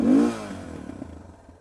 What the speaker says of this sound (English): It revs pretty damn fast.